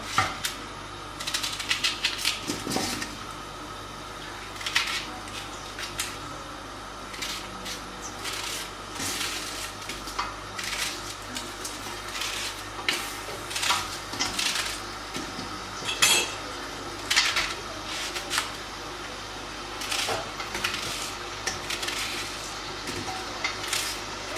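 A knife chops onions on a board while Moroccan couscous is being prepared, giving close, crisp taps in irregular bursts and short pauses, with no speech.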